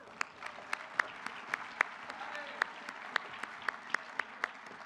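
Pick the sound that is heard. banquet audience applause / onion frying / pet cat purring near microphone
banquet audience applause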